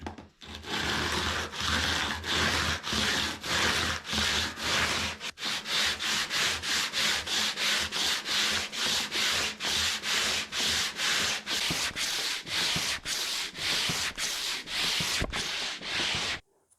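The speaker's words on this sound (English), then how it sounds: "I'll get it set up in my little sanding jig and we'll get the radiusing block on it." Steady back-and-forth sanding of a guitar patch repair in a sanding jig with a radiusing block, loud rhythmic rubbing strokes repeating evenly throughout, alone with no talk.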